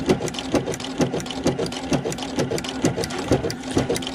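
A sewing machine fitted with a ruffler attachment stitches and pleats fabric, its rapid, steady mechanical chatter pulsing in a regular rhythm with a periodic heavier clunk as each pleat forms, loud and close.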